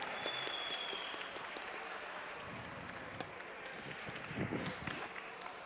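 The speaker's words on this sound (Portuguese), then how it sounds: "uma salva de palmas para esses servidores públicos" Applause fills a city council plenary chamber, sustained clapping from many people that sounds somewhat distant and faint, holding steady from start to finish with no voice over it.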